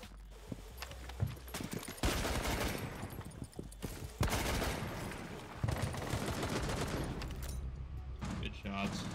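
Pistol shots ring out in a shooter game, sharp cracks fired in several quick clusters over a dense mix of gameplay noise, with a voice talking underneath.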